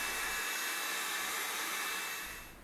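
A heat gun blows a loud, steady, close rush of hot air across a boat hull surface to dry off moisture, fading slightly at the end.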